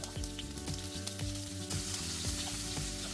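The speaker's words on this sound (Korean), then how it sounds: "고기를 굽고 남은 기름에 마늘, 양파, 아스파라거스를 먼저 구워줍니다" Garlic, onion and asparagus frying in leftover steak fat in a pan, a loud, dense, continuous sizzle with a faint rhythmic tapping of a utensil underneath, close up and with no talk.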